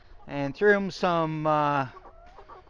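Someone speaks briefly while chickens cluck softly nearby in short, scattered calls.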